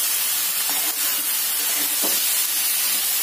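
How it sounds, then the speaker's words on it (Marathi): Mixed vegetables being sautéed in a pan sizzle loudly and steadily at close range, a dense hiss with faint stirring clicks and no speech. "आता असंच आपण याला छान असं परतवून घेणार आहे।"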